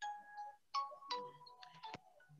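A phone's ringtone for an incoming call sounds during a hat-making workshop, a short melodic electronic tune of a few bright tones with faint background.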